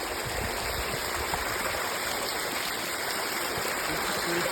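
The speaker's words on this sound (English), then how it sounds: "Sort of almost through a waterfall." A small waterfall on a mountainside in Glacier National Park roars in a steady, dense rush of splashing water, close and constant throughout with no voices over it.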